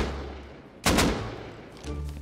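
Gunfire in the survival game Rust, one sharp loud burst of shots lasting about a second, then a quieter second volley near the end over low background noise.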